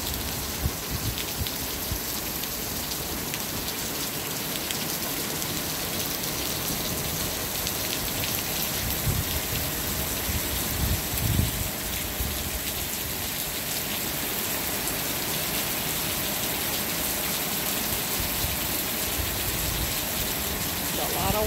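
A heavy monsoon rainstorm pours down in Apache Junction, Arizona. The dense, steady hiss of rain and the splatter of water on surfaces go on unbroken and fairly loud throughout.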